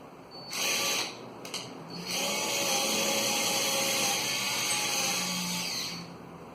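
An electric drill runs in bursts while drilling holes for a wall bracket: two short whirs, a brief pause, then a long sustained high-pitched drilling lasting several seconds before stopping.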